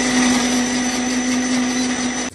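A kitchen blender crushing garlic runs loud and steady with a constant whining motor tone, cutting off abruptly at the end.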